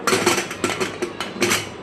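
A steel pressure cooker lid being fitted and closed while cooking pasta, giving a quick series of sharp metallic clanks and clicks, close by and in an irregular rhythm.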